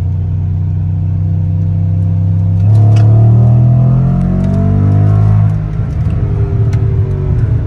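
A Dodge SRT-4 engine idles low, then revs hard as it accelerates, pitch climbing through a gear change before settling into a rough, loud drone.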